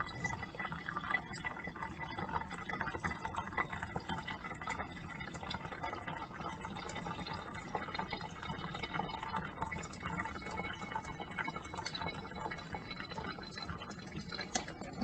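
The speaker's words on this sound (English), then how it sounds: "pour in the water again" A steady stream of water pours continuously over coffee grounds with a soft hissing, trickling wash, faint and unbroken for the whole stretch.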